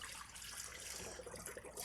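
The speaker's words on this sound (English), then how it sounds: "Let's get this water out." Water pouring and splashing as it is drained from a bowl of soaked shredded potatoes for hash browns, a continuous faint gushing trickle for under two seconds with no voices.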